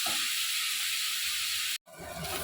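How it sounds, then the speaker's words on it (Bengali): Chicken frying in a pan of oil, a loud steady sizzling hiss broken by one brief cut, then resuming with soft stirring clatter underneath. "চিকেনটা একটু ফ্রাই হোক"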